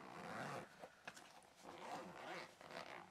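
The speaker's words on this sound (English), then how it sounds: "Let's pull that zip all the way around." A zip on a clamp meter carry case is pulled open all the way around in a few quick, close rasping strokes separated by short pauses.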